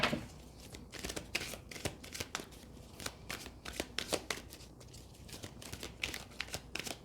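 Tarot cards shuffled by hand, close and quiet, a steady run of crisp riffling snaps and soft card slides with no talking.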